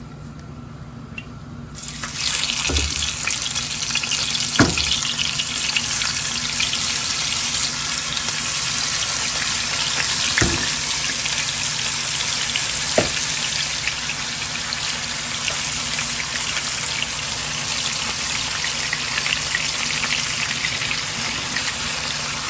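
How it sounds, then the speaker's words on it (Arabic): Meat frying in hot oil, a steady broadband sizzle that starts abruptly after a brief quiet opening and continues evenly throughout, with a few sharp pops and clicks scattered across it, close and fairly loud. "بعد ما الزيت سخن معايا انزل بقى باللحمه بتاعتي"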